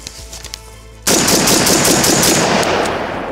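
A Daniel Defense M4A1 Block 2 rifle opens up after a second of quiet outdoor stillness, a loud, sustained burst of rapid shots that continues to the end without any talking.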